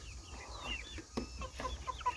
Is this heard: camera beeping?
no